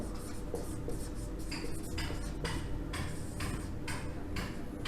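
A pen scratches across paper while someone works through quadratic equations, in a run of rhythmic strokes over a steady room hum.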